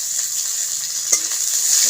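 Onions, cumin seeds and a green chilli fry in hot oil with a steady bright sizzle, broken by a spatula scrape as they are stirred, close and loud, with no voices.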